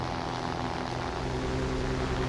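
A P-39 N-0 propeller fighter engine drones steadily during a dogfight in a video game, a loud, even buzz with a constant pitch and no pauses.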